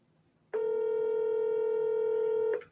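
A telephone gives a single steady electronic ring tone, loud and close, lasting about two seconds before it cuts off.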